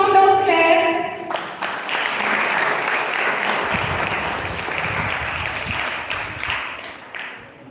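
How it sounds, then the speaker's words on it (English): A school audience bursts into loud, sustained applause at a school competition event, steady dense clapping lasting several seconds after a brief tonal sound at the start, with no talk over it. "Give a big sound of clap."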